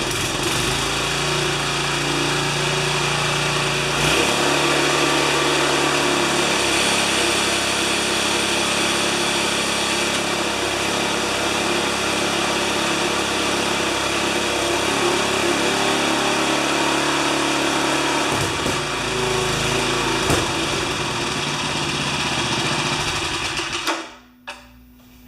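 A 1973 Briggs & Stratton tiller engine at three-quarter throttle runs loud and steady with a buzzing drone close by, then cuts out near the end.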